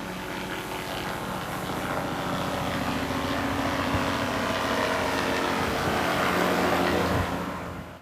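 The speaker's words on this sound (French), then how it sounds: "Voici un extrait d'un hélicoptère qui le pulvérise juste au-dessus de moi." A mosquito-control helicopter passes low overhead while spraying insecticide, a loud continuous rotor and engine roar that swells slightly and stays steady for several seconds.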